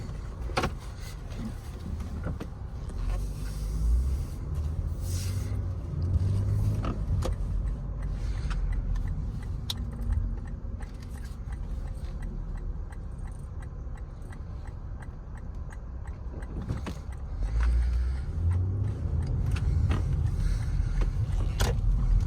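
Inside a 2022 Lexus RX350 F Sport on the move: a steady low cabin rumble of road and engine noise, dotted with small creaks, clicks and occasional louder swells.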